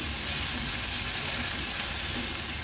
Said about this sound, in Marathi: थोडासा कांदा मी हा परतून घेते आता ह्याच्यामध्ये मी एक चमचाभर आलं लसूण क्रश ॲड करते